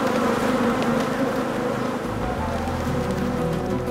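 Dense, continuous buzzing of many honeybees swarming close by at a hive, a steady droning hum with no pauses.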